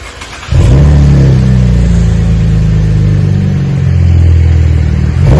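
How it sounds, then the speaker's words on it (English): A 2013 Chevy Camaro engine bursts into a loud, deep rev and holds a throaty rumble through single-chamber V-tube mufflers with 4-inch stainless tips and stock catalytic converters, close by, with a brief lull near the end. "we've installed the single chamber V2 mufflers and some nice 4-inch stainless steel tips"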